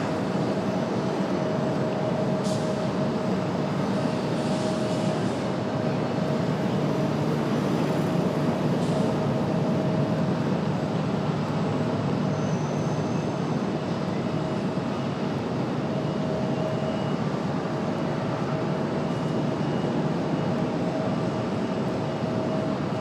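Frontier Airlines jet taxiing at Raleigh-Durham airport, a steady broadband engine roar that holds constant throughout, with a faint whine on top and some distant airport background noise.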